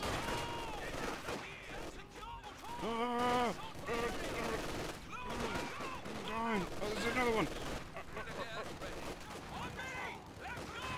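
Machine guns rattle in repeated bursts during a Company of Heroes 2 battle, mixed with other combat noise, while someone talks excitedly over the gunfire.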